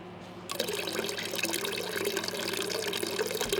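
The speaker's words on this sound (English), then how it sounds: "Now we're going to add enough water in to reconstitute to 250 milliliters, or a cup." Tap water running steadily into a container to reconstitute dried eggs, a sudden onset followed by a continuous, fairly loud splashing hiss with no voices.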